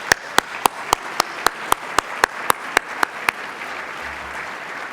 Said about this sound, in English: Please join me in giving them a hearty round of applause.